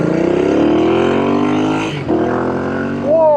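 A Royal Enfield Interceptor 865cc motorcycle engine revs loud and close, pitch climbing steadily, dipping briefly, then rising again into a sharp upward rev at the end.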